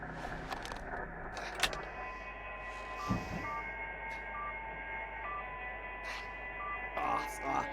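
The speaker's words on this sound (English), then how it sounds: "It may be a Morse code." Radio Morse code signal in a video game: a steady high tone pulsing in a regular rhythm of short and long beeps, heard under game sound and voice-like static, with a few sharper clicks and rustles.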